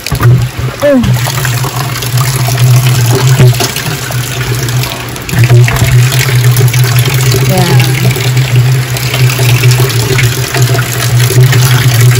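Rainwater pours steadily into a drum in a backyard, a loud continuous rushing splash with a low resonant hum, briefly interrupted midway before it resumes.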